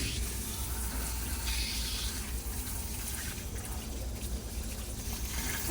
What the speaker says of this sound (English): So we're gonna continue for all the faucets.